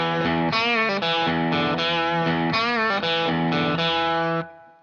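Distorted electric guitar plays the verse riff of a song, one bar looped, with thick saturated chords and punchy repeated stabs, loud and close, ending with a ringing decay.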